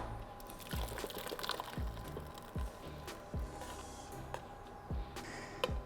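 Thick red pepper and tomato soup is poured into a saucepan, quiet glugging and plopping in soft repeated dull thuds, faint and close, with no talking.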